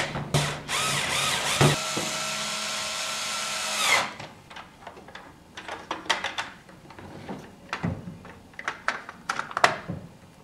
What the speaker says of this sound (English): Now I can just install the rest of the screws.